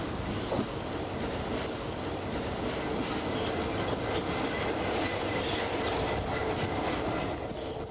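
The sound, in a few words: diesel locomotive train on rails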